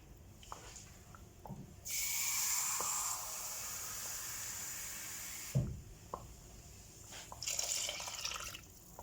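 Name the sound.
pouring a glass of water into yogurt sauce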